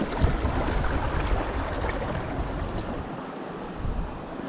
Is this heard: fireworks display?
no